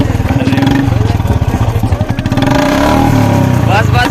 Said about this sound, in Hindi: तो चलो स्टार्ट करो यार एक बार एक्सीलेटर बढ़ा थोड़ा।